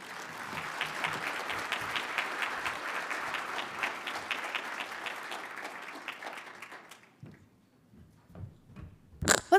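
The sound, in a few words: applause for the speakers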